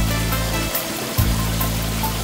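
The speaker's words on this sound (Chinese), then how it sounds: "看山泉水哦，凉爽的山泉水" Cool mountain spring water runs constantly from a natural spring at the Shuangliu waterfall stream in Shizi Township, Pingtung, a steady close trickle and splash with a low hum and a brief dip in the middle.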